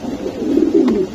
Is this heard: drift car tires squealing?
no